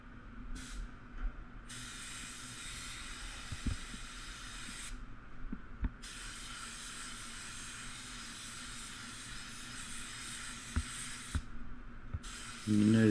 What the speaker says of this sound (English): So we're spraying with the Starter Jet 5000 WSB.